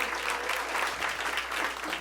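A comedy show audience claps steadily as a crowd, a dense, even wash of applause that runs the full length without voices on top.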